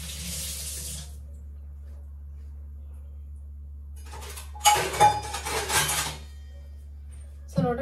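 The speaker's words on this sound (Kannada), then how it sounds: "1 ಬದ್ನೆಕಾಯಿ, 2 ತೊಳ್ಕೊಂಡು ಬರ್ತೀನಿ." Running tap water splashing as brinjals are rinsed at a kitchen sink, a steady stream for about a second, then quieter, then a louder burst of gushing and splashing with light clinks, and a brief final splash.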